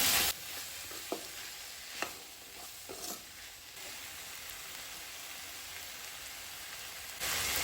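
Potatoes and prawns stirred into softened tomato masala in a pan for a Goan fish thali, giving a steady close sizzle broken by a few sharp scraping clicks of the spoon.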